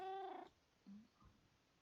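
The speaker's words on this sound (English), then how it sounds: "Oh, hello, kitty." A cat from the Mo' Creatures mod in Minecraft lets out a quick, clear meow, then a softer, shorter purring chirp, both fairly quiet against a hushed background.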